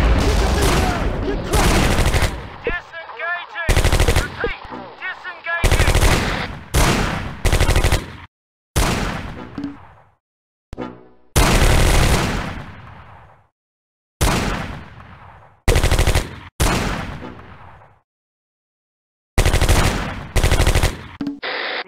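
Heavy gunfire in the WWII strategy game Close Combat, loud machine-gun bursts and rapid volleys in repeated chunks separated by short silences.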